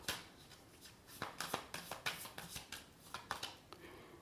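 Tarot cards are handled and shuffled in a quick run of soft papery flicks and riffles, close and quiet with brief gaps between bursts.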